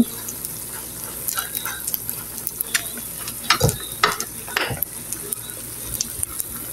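Potatoes added to onions frying in a pan for an egg breakfast dish give a continuous close sizzle with scattered clinks and scrapes of the pan and spoon.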